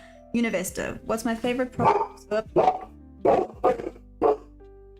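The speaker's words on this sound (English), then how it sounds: "Sorry, that's my dog." A dog barks several times in short bursts close by, its barks overlapping with someone talking.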